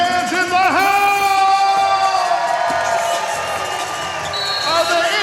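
A basketball crowd of Notre Dame Fighting Irish fans at a women's game against Georgia cheers and whoops loudly through the arena, with shrill whistles and shouts rising above the steady roar.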